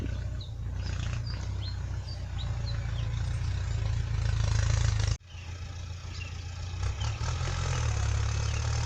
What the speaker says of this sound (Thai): ก็จอดรถไถ นึกว่าพังอีกแล้วนึกว่าเจ๊งอีกแล้ว